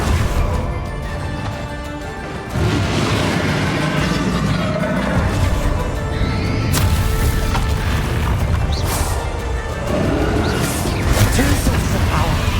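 A Confringo spell explosion in the game Hogwarts Legacy, a loud booming crash layered with continuous dense battle noise and impacts, with voices shouting over the din.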